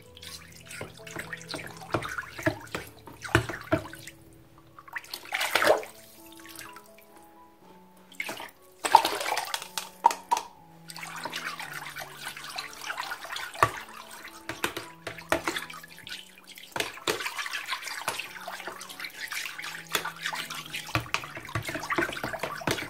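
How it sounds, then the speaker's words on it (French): About three litres of water poured into a garden remedy mixture made with olive oil and essential oils, with splashing, running water in several bursts, close and fairly loud, with no talk. "je vais mettre l'équivalent de 3 litres d'eau"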